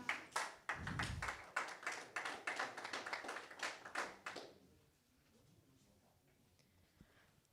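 Applause at a fight weigh-in for an MMA event, a burst of close, sharp hand claps lasting a few seconds and then stopping abruptly, leaving faint room noise.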